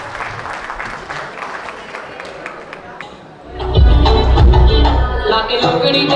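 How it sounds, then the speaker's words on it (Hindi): Applause and crowd noise at a college fest dance show, with cheering under a PA voice, then loud bass-heavy dance music kicks in halfway through and carries to the end. "एक बार जोरदार तालियां"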